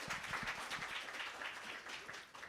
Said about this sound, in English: Can we give the boss of YSK another round of applause